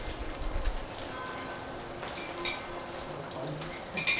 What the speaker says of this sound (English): The rain smells really nice.